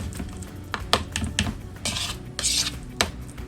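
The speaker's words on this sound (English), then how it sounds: "You can mash it with a fork or with the flat end of the spoon." A spoon mashing hard-boiled egg yolks in a bowl, irregular close scraping and clinking taps, some sharp, others rasping, with no voices.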